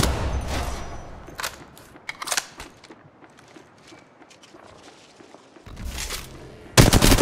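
Gunfire bursts in the mobile battle royale game Apex Legends Mobile, sharp clustered shots at the start, around two seconds and again near the end, with quieter gaps between and no talking.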